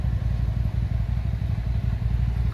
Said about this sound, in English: So now the engine is running okay.